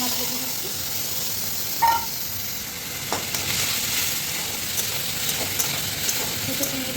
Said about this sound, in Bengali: তেলের মধ্যে একটা শুকনো লঙ্কা ছিঁড়ে দিলাম আর পাঁচফোড়ন সোমরা দিলাম পাঁচফোড়নটা ভালো করে ভেজে নিচ্ছি